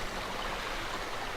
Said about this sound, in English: We are now at the source of the water supply, which is a natural spring which comes out of the rocks.